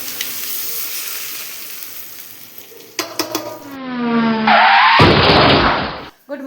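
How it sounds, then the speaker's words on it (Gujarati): Hot tempering poured over dhokla sets off a loud, close burst of sizzling that lasts about a second and a half before cutting off, preceded by a brief clatter and rising whistling tones. "ચાલો જો ઢોકળામાં આ રીતના આપણે વઘારે રેડી દેવાનું છે"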